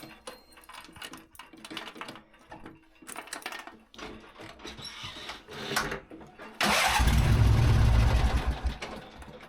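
An old riding lawn mower cranking a few times, then its engine catching and running loud and rough close by.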